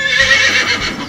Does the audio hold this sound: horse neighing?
yes